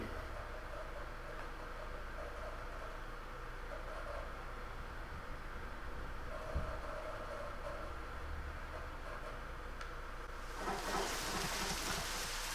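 Rain falling in the video game Deadly Premonition, a steady, dense hiss that continues evenly throughout and swells slightly louder near the end, with no voices over it.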